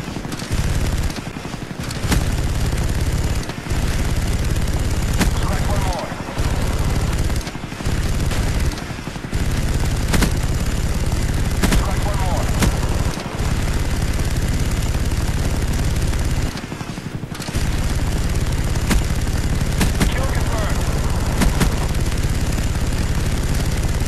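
In Call of Duty: Black Ops, a chopper gunner helicopter fires nonstop during team deathmatch on the Jungle map. Loud, dense automatic gunfire and booming impacts run almost the whole time, broken only by brief gaps.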